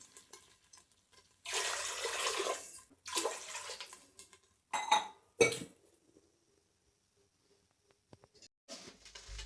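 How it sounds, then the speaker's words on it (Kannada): Water poured from a glass into a cooking pot while making ghee rice, several separate splashing pours with brief metallic clinks of the pot between them, close and fairly quiet, with no talking. "ಗ್ಲಾಸ್ನ ಅಳತೆಯಲ್ಲಿ 4 ಗ್ಲಾಸ್ ನೀರು ಹಾಕಲೇಬೇಕಾಗುತ್ತೆ"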